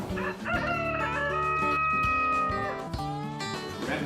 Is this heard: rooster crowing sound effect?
yes